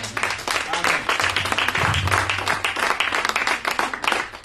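Congregation clapping and cheering for the Lord at a French-language faith book presentation, dense rhythmic applause sustained throughout with a voice calling out over it.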